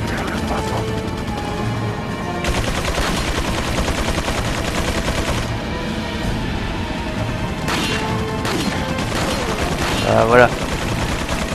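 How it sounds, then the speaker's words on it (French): Heavy machine gun fire rattles continuously in Resident Evil 4 on GameCube, dense bursts running throughout with a sharper crack near the end, while someone briefly speaks over it. "je peux pas trop faire face à une mitrailleuse lourde en fait"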